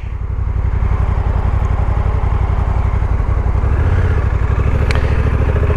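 Honda NC750X or NT1100 motorcycle with DCT gearbox pulling away smoothly, a loud close engine thrumming at a steady rapid pulse throughout, with no voices.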